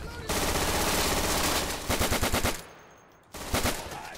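Machine gun fire in the World War II shooter Day of Infamy, long loud rapid bursts of automatic fire, then a brief lull before another close burst.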